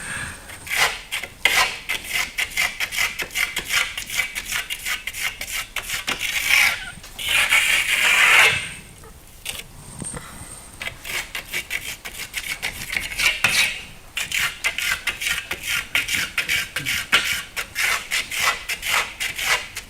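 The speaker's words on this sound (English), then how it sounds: "What I usually do with my trowel is, when we're starting on the edges, is you can really use the nose of your trowel to get into these areas." A steel trowel smears FirmoLux Piatto plaster across a wall in steady, repeated scraping strokes, close and fairly loud, pausing briefly now and then with no talking.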